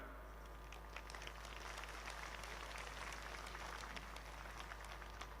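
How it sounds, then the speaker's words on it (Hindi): Faint, steady applause from a distant crowd at a public meeting in Bikaner, Rajasthan runs throughout, a soft patter of many hands under a constant low hum. "तालियां बजा रहे हैं।"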